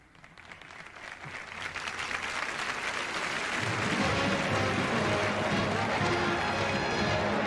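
Large theater audience at the Kennedy Center Honors gala breaking into applause and cheering, starting moderate and building into a loud, sustained roar of clapping and voices that holds steady.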